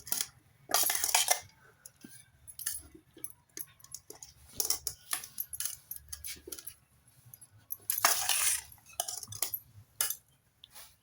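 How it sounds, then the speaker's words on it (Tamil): A spoon scrapes and clinks against a pan while carrot rice is stirred, in irregular metallic bursts with two longer, louder scraping passes and quieter taps between them, close and with no talk. "நல்லா கிளறி விட்டுருங்க"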